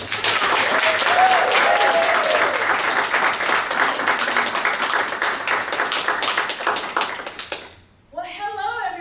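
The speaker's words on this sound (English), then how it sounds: "Please join me with a great round of applause for our first qualifying speaker" An audience gives a loud, dense round of applause for a qualifying speaker; the clapping holds steady, then thins out and stops, and a voice begins just after.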